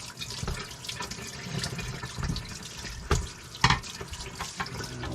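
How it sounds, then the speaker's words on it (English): A tap runs steadily into a sink at a camp kitchen while a spatula is rinsed, with gentle splashing, a couple of louder clatters and splashes, close and without talk. "Give that a quick rinse because I'll need it later."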